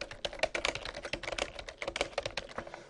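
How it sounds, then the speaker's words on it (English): Keys clatter on a computer keyboard in a quick, uneven burst of close, light taps, with no voices. "all I'd have to do is type in here"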